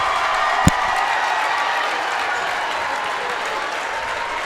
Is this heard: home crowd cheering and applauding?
yes